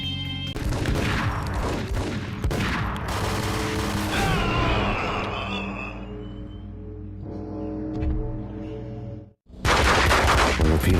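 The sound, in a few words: gunfire exchange in a video game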